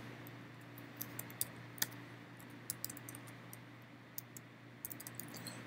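Computer keyboard typing as data is entered into a logging program: scattered, quiet key clicks in short irregular bursts over a steady low hum, with no voices.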